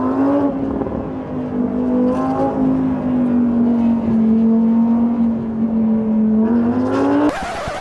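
Lamborghini Huracan EVO engine droning at steady high revs on a racetrack in Bahrain, a sustained loud tone that dips slightly then rises again, ending in a sharp rev spike.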